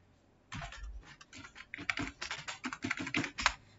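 Quick, uneven clatter of keys being typed on a computer keyboard, a fast run of close, crisp taps that starts after a short silence and continues alone.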